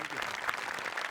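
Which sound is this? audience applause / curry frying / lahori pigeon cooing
audience applause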